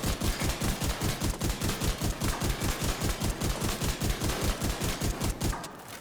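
A shotgun fires rapidly in the video game The Division 2, about two dozen evenly spaced, punchy shots in a fast steady rhythm lasting several seconds. The volume stays loud and constant before stopping abruptly.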